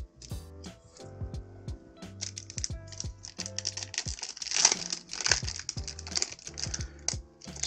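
A sealed 1991 Ultra baseball card pack being torn open: close, dry crinkling and crisp tearing of the wrapper, with irregular handling clicks and rustles throughout and no talking.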